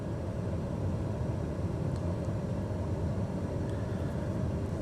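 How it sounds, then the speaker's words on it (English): A TBM turboprop airplane's engine in Microsoft Flight Simulator 2020 on a Livermore to San Francisco flight, a steady, loud, low droning rumble held throughout with no talk. "Turn up the volume here so I can hear the airplane."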